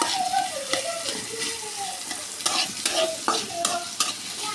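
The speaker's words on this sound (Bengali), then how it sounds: "পেঁয়াজগুলো ভালো করে ভেজে লাল লাল করে নিচ্ছি।" Onions fry in a small amount of oil in a pan, giving a steady soft sizzle broken by repeated scraping stirs of a spoon, with no voices.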